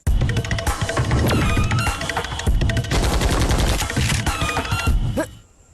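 Gunfire in a Malayalam comedy film scene from Aadu, dense bursts of machine-gun-like shots crackling continuously for several seconds, loud and close, then cutting off at the end.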